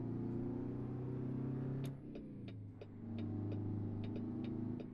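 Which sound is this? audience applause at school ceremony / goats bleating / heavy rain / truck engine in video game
truck engine in video game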